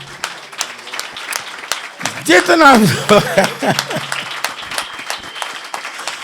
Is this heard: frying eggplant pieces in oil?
no